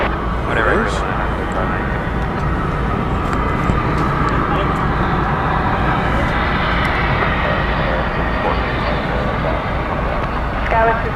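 An American Airlines jet from San Diego comes in to land at DFW, its engines a broad, steady roar held throughout while a person talks over it.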